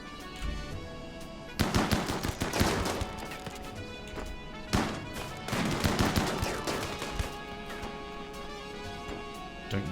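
Colonists in the game RimWorld open fire in bursts of rapid gunshots, dense volleys near the start and again midway, loud and close, with scattered single shots and impacts between.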